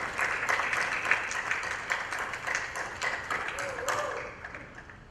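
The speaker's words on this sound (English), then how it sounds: "So please give a big round of applause" Audience applause welcoming a speaker at an arangetram dance recital, steady clapping from a crowd in a hall, moderately distant with a few sharper individual claps, tapering off at the end.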